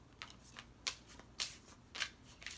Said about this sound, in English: I'm looking down because I'm shuffling.